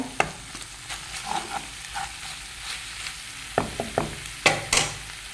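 Chicken dry roast with chopped coriander stirred in a pan: repeated scraping strokes of a spoon against the metal over a low sizzle, coming in uneven bursts with louder clatters toward the end, close and without speech.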